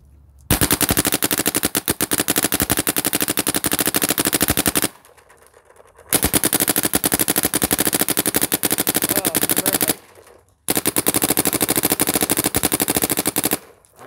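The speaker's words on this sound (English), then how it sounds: "we'll fire a couple of streams above the targets into the woods so you can get a nice view of the stream of paint" An Adrenaline Shocker XLS paintball marker running at 15 balls per second fires three long rapid bursts into woods outdoors, each a dense machine-gun-like rattle of pops separated by brief quiet gaps.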